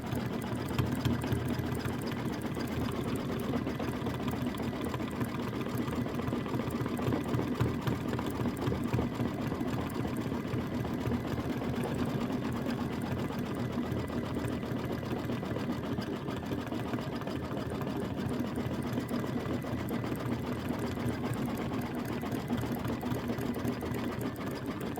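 A sewing machine stitches a quilt block, a continuous close rapid mechanical chatter with a steady whirring hum that runs unbroken throughout, no talking.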